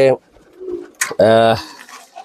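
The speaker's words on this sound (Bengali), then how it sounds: "এই যে আমার এক পেয়ার গোল্ডেন কবুতর" A pair of golden pigeons coo up close, with two distinct throaty coos separated by brief pauses and a soft low murmur between them.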